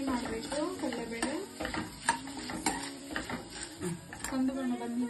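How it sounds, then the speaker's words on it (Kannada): Chana dal with curry leaves frying until brown in a pan for vangi bath, soft sizzling under repeated stirring with scrapes and light clinks, quiet and close, with a voice faintly present. "ಸ್ವಲ್ಪ ಮಿಕ್ಸ್ ಮಾಡಿ ಕಂದು ಬಣ್ಣ ಬರೋ ತನಕ ಫ್ರೈ ಮಾಡಬೇಕು."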